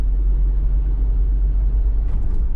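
A 2019 Jeep Wrangler Unlimited with a 2.0 turbo engine pulling in 6th gear at about 35 mph, a steady, loud, low cabin drone and rumble, with a faint brief higher tone near the end.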